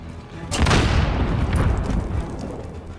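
A grenade goes off in a military first-person shooter game, a loud booming blast that hits about half a second in and rumbles and decays over the next couple of seconds, with no talk.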